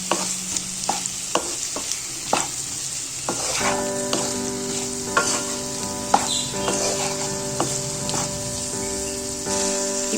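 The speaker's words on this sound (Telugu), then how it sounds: "అంతా ఒకసారి కలుపుకోవాలండి." Boiled taro roots stirred in a pan for chamagadda pulusu, a steady sizzle under repeated spoon scrapes and knocks, close and moderately loud.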